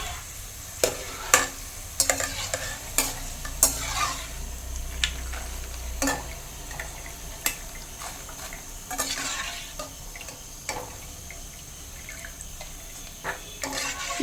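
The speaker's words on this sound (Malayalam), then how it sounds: "ഇതുപോലെ നമുക്ക് ബാക്കിയുള്ള ഇഞ്ചിയും നല്ലപോലെ ഒന്ന് ഫ്രൈ ചെയ്തെടുക്കാം" Ginger fries in hot oil in a pan for Kerala-style ginger curry, a soft continuous sizzle broken by repeated sharp scrapes and clinks of a spoon stirring against the metal.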